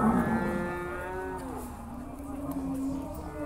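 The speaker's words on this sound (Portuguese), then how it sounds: "E aqui, pessoal, logo na entrada aqui tem bastante vaca." At a cattle fair in Campina Grande, Paraíba, a cow lets out a long, loud, drawn-out moo nearby, over a murmur of background crowd noise.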